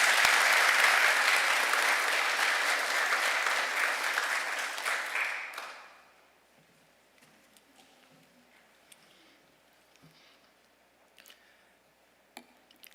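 A ceremony audience applauds the Premier at a rehabilitation centre opening, dense clapping for about six seconds that then dies away to scattered ticks and small room noises.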